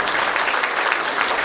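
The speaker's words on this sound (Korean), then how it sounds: "네, 박수 한번 부탁드리겠습니다." A crowd at an election campaign office opening in Daegu breaks into applause, a thick, continuous patter of many hands clapping at close range and steady volume, with no talk over it.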